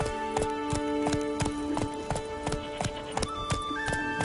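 Roach, Geralt's horse in The Witcher 3 on Death March difficulty, gallops with steady, rapid clip-clop hoofbeats over a sustained bed of game music.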